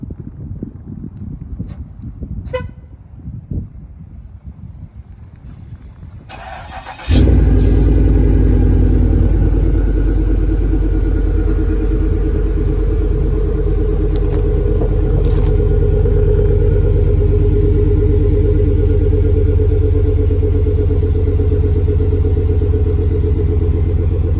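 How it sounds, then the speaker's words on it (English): A car engine cold-starts outdoors in the morning on a leaf-strewn driveway, catching abruptly and settling into a loud, steady, close idle with deep rumble that holds on without pause. "I'm about to be doing a cold start."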